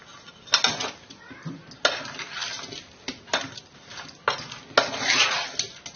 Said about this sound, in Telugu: ఇదంతా బాగా కలుపుకోవాలి